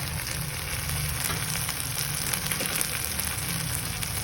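An egg fries in a pan of cooked pork sisig made with Argentina pork giniling, giving a steady close, loud sizzle and crackle that stays even throughout with no talking.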